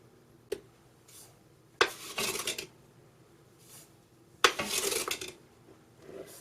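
Sugar poured into 3 cups of grape juice in a pot, heard as two bursts of granular hiss and rattle from pouring, each opening with a sharp clink, with quieter scraping between, close by and with no talk.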